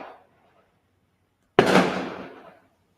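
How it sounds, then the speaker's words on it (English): A single loud firework bursts at night in the city, a sharp blast with a long crackling decay lasting about a second, after a brief faint sound at the start. "How they still going fireworks at the 1 a.m.?"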